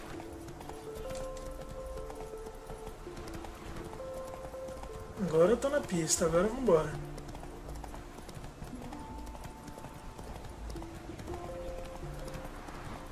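Steady horse hoof clip-clops from riding in The Witcher 3 run under game music and a talking player, briefly swelling into a louder flurry with a whinny-like cry midway.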